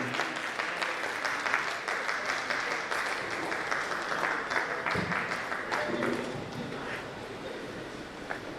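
An audience applauds after a speech at a Nigerian university registrars' annual retreat, sustained clapping filling the hall evenly at moderate level, with faint murmuring underneath and the clapping thinning slightly toward the end.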